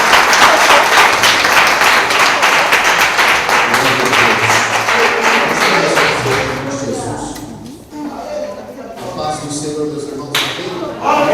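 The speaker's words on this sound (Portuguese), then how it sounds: "E você que crê, dê uma linda salva de palmas" Applause from a church congregation during an evangelical sermon, loud dense clapping that thins and fades after several seconds, leaving scattered claps, a few voices and room noise.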